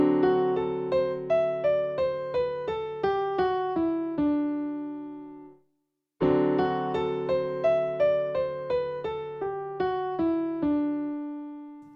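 A jazz chord arpeggiated up to the ninth and then run down a descending scale over rhythm changes, played on a pitched instrument in two clear phrases separated by a brief pause, each made of evenly spaced plucked or struck notes.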